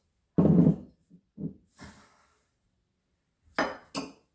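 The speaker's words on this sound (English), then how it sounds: "Stir that around just a little bit." Spoon stirring an Old Fashioned of rye and maple syrup in a glass, heard as a few short, close clinks and knocks spread over several seconds with brief quiet gaps.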